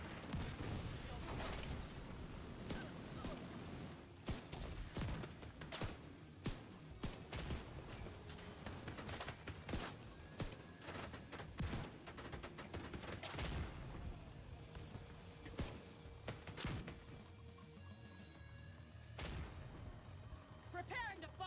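Gunfire from the video game The Division 2 crackles in dense bursts of shots and booms over a sustained roar, loud and near, with occasional talk mixed in.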